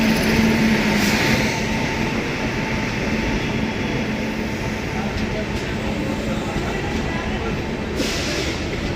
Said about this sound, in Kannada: ನೋಡಿ ಇವಾಗ ವಿಶ್ವಮಾನವ ಟ್ರೈನ್ ಬಂತಲ್ವಾ